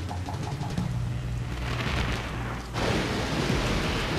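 Thunder rolls through a lightning storm in the stealth game Splinter Cell Pandora Tomorrow, a dense, steady roar of rain and rumble that swells in a fresh crash partway through.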